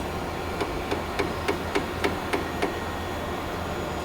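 About eight light, evenly spaced metallic taps seat a fixture on a grinder in a fishing tackle workshop, with a steady machine hum underneath and no talk.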